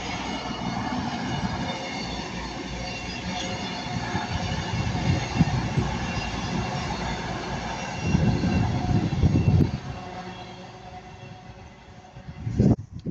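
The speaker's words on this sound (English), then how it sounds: "And now passing by is a cross country Class 221, going from Bristol Temple Meads to Manchester Piccadilly." A CrossCountry Class 221 diesel train passes at Ardwick on the West Coast Main Line. A sustained rumble and rattle of wheels swells and fades as it goes by, with a brief sharp squeal near the end.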